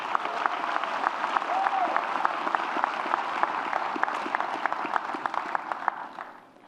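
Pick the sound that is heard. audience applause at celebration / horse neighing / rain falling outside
audience applause at celebration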